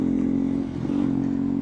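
Motorcycles rumbling past on a road, a steady, loud engine drone that holds throughout with a brief dip in the middle, with no talk over it.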